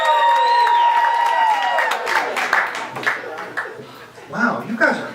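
A comedy show audience breaks into applause and cheering after a descending tone, the clapping scattered and uneven and mixed with voices and laughter.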